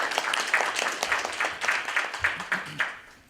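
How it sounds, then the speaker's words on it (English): Audience at a healthcare panel event gives welcoming applause, a brief patter of moderately quiet clapping from a small crowd with a few distinct sharp claps, fading out toward the end. "Please give us a welcoming applause for our distinguished panel."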